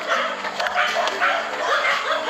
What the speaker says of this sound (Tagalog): Dito na yung mga aso nagsisitahulan.